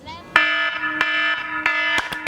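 A timer alarm goes off with loud, repeated buzzing beeps that are close and steady, interrupted by several sharp pulses.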